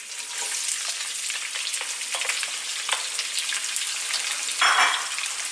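Onions sizzle steadily in hot spice-infused oil for an okra curry, a dense, close frying hiss with light stirring clicks and a brief louder burst near the end.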